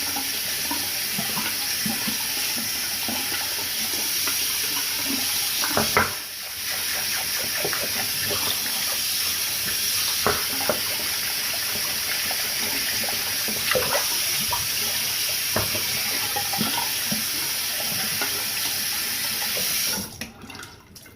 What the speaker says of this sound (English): Let me rinse out this brush so you guys can get another look at it real quick.